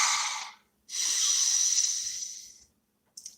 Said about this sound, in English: Please breathe.